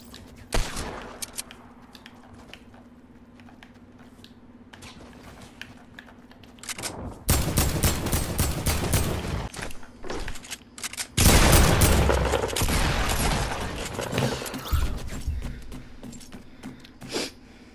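Heavy assault rifle fire from a video game erupts in loud sustained bursts after a quieter stretch of scattered shots, with a second long, intense burst later and sporadic single cracks trailing off.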